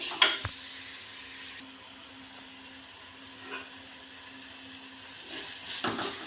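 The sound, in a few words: onion mixture sautéing for mackerel curry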